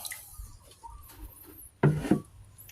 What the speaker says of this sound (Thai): เทน้ำหมักลงไปนะครับ